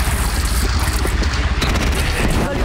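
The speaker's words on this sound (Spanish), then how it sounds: "Los cañones envejecieron bien, pero los limpié para que rujan de verdad." Cannon blasts in the video game Horizon Zero Dawn, heavy booming reports with a continuous low rumble, loud and close, several shots running together across the clip.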